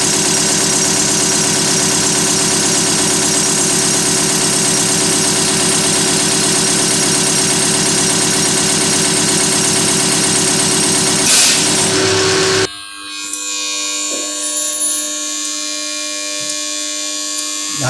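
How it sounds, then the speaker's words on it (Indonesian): An Isuzu NKR 55 diesel injection pump running on a test bench at 500 rpm, a loud steady mechanical drone with a buzzing whine that cuts off abruptly near the end, leaving quieter machinery hum and faint clicks. "pompa injeksi akan dioperasikan pada 500 rpm"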